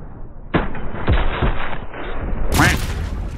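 Loud video game gunfire from Call of Duty: Black Ops 6, several sharp close shots spaced about half a second apart, followed by a heavier blast near the end.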